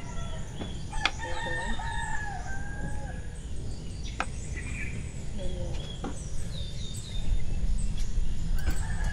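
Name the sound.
rooster crowing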